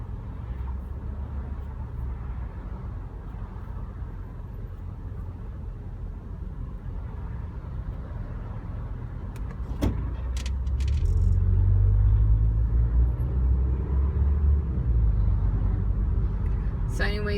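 Steady low road rumble from inside a car crawling through morning commute traffic on the 10 freeway, with a deeper swell of passing vehicles partway through, constant and moderately loud throughout.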